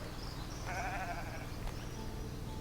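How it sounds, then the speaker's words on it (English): A sheep in the Foundation video game gives a single wavering bleat partway through, set over a steady low background hum. "Let's spawn sheep and see what happens."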